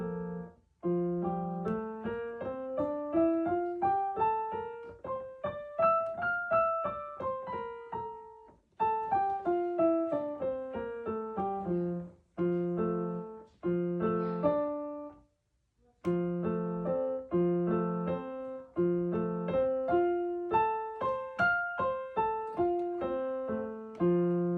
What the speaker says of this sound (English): So my F is going to sound something like this.